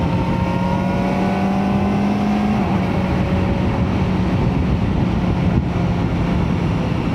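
A Kawasaki ZX-4RR motorcycle accelerates with a loud, steady engine drone that rises in pitch, drops briefly as it shifts up through the gears with the quickshifter, then climbs again, with no voices.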